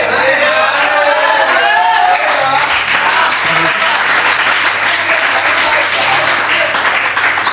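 A sustained wave of applause from an open mic poetry audience fills the room loudly and steadily. A voice carries over the clapping at first, then the dense applause continues alone.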